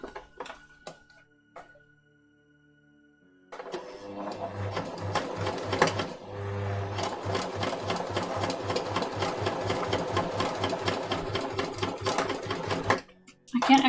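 A sewing machine stitches the corner of a waistcoat, starting after a quiet pause and running in a fast, steady mechanical whir with rapid needle clatter for about nine seconds, close and clear, before stopping.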